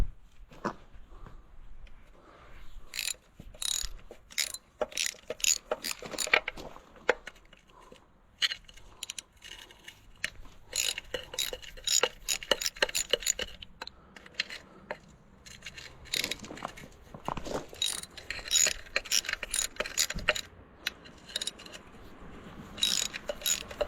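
Ratchet loosening oil pan bolts on an Allis-Chalmers G tractor, close and fairly quiet, with dense runs of rapid clicks broken by short pauses and occasional clanks of tools and metal.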